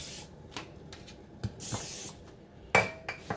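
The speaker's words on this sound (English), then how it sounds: "let me just kind of spray just in case." Cooking spray hissing onto a baking pan for baked cabbage steaks, several short bursts of spray separated by pauses, close and clear, with a few light clinks of the pan between them and no talk.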